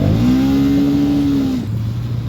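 A motorbike with worn clutch plates revs up, its engine note holding a steady, loud drone for over a second before dropping off, close up with a continuous rumble underneath and no talking.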